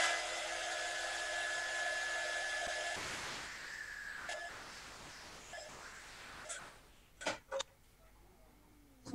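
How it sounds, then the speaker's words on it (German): Hair dryer blowing over a decorative wax sheet pressed onto a candle, a steady close rushing hiss for about three seconds that fades into softer rustling and a few sharp ticks. "Wie gesagt, kann man kurz drüber föhnen."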